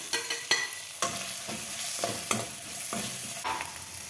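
Onion and tomato fry in a pan for peas upma, a soft sizzle running under regular scraping stirs that land roughly twice a second, close and fairly quiet, with no talking.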